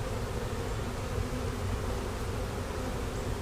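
A honeybee swarm under a house buzzes in a dense, continuous drone, steady and close with no pauses or voices.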